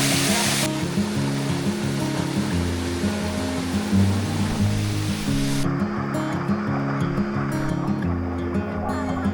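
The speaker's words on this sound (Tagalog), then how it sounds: "Ang lakas pala talaga ng tubig dito sa Arapay Falls." Strong water at Arapay Falls roars continuously, a dense rushing noise close by that holds steady from start to end with no voices over it.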